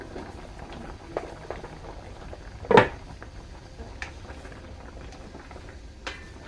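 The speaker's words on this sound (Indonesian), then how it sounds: "Sekarang saya mau lihat rebusan pisang saya dulu." Bananas boil in a pot with a steady bubbling, pattering simmer that runs throughout, broken by a brief louder knock and a couple of faint clicks nearby.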